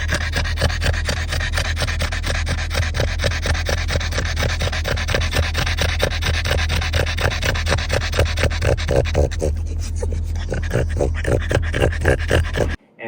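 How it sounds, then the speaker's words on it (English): A French bulldog pants heavily and nonstop inside a moving car, rapid rasping breaths in a fast, steady rhythm close to the listener over a constant low engine rumble, until the sound cuts off abruptly at the end. "you know the way that she pants like crazy in the car"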